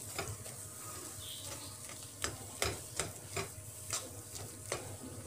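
Half a spoon of garam masala and other spices being stirred into mashed boiled potatoes for an Assamese potato sandwich filling: irregular soft scrapes and sharp spoon clicks against the bowl, close and fairly quiet.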